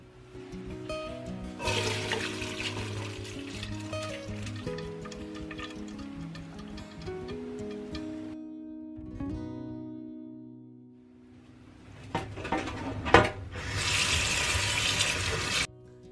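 Boiled macaroni water drains through a strainer into a vessel in a home kitchen, a rushing, splashing pour in two long bursts under steady background music.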